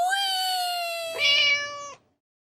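A cat gives one long, clear, drawn-out meow that wavers and rises in strength near the end before cutting off abruptly into silence.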